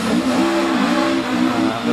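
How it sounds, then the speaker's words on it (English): A 1977 Ford RS 1800 rally car accelerates away, its mid-pitched engine revving loud and close with a wavering, strained note as it struggles for traction. "Struggling to gain traction by the sounds of it."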